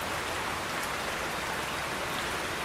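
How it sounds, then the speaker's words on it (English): Steady rain falls behind a house on the Big Island, a continuous, even hiss of drops on surfaces with no pauses or voices. "The rain out back, which I'm sure you can all hear"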